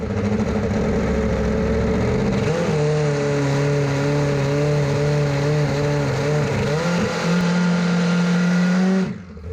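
A multi-cylinder drag bike sits with its throttle stuck partly open after a burnout, its engine holding a loud, steady high drone with slight wavering pitch for several seconds before cutting off abruptly.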